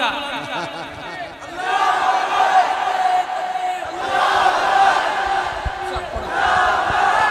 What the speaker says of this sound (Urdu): ایک مرتبہ نعرہ ہو جائے